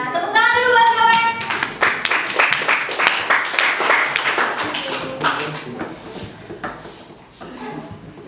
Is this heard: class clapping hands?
yes